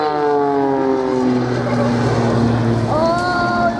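An Extra 300 aerobatic airplane performs a display at an air show, its loud propeller engine droning and shifting in pitch as it passes and climbs, with a voice talking faintly underneath.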